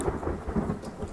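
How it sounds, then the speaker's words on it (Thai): Low rumbling thunder rolls beneath a steady hiss of rain in the video game The Forest, loud and close, with no voices. "โอ้โหฝนตกอ่ะ"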